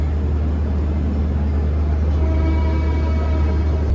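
The Visakhapatnam–Kirandul Express pulling out of Visakhapatnam station rumbles steadily from inside the coach, a constant low mechanical drone with faint rattling and no voices.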